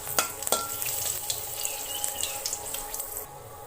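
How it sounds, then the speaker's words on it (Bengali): Dried red chillies and cumin seeds sizzle in hot oil in a wok, a continuous crackling hiss with sharp pops near the start, close and steady, with no voices. "কড়াইতে আমি এই তেলের মধ্যেই শুকনো লঙ্কা আর জিরা ফোড়ন দিলাম।"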